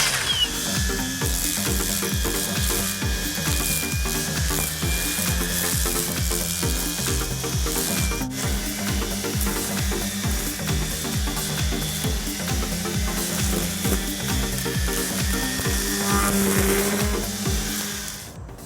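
An EGO 56V power head string trimmer runs steadily at close range, a loud, continuous motor whine with a fast mechanical buzz throughout, no voices.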